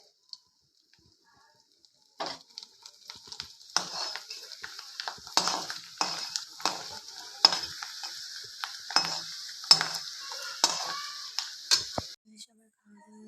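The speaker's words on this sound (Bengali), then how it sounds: "এই যে এই পাঁপড়গুলো ভাজবো" Papads fry in hot oil with a bright, crackling sizzle that rises after a quiet start, punctuated by repeated clinks and scrapes of a utensil, with some speech in the background before it fades out.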